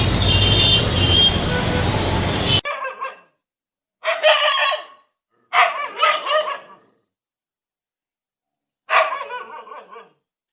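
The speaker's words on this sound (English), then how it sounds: "street dog barking at the one another is called noise." Street dogs barking at one another in loud, close bursts of several rapid barks, separated by silent pauses, following a few seconds of busy outdoor background noise.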